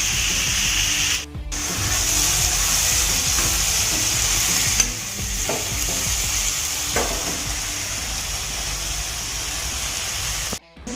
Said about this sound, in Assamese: লাও আৰু আলু ভাজি ৰাতিপুৱাৰ কাৰণে।